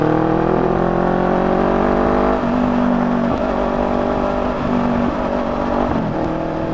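A car engine rises in pitch while overtaking on a road, loud and close, shifting through gears with brief dips before climbing again.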